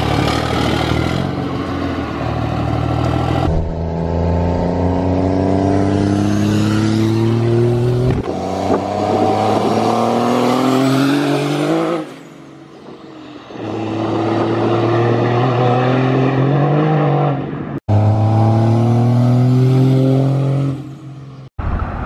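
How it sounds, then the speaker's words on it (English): Single-cab truck with a Cummins 5.9 diesel revving hard in repeated long pulls, engine pitch climbing and falling between brief pauses, loud and close near a factory. "I don't know how loud you could actually tell this truck is on camera"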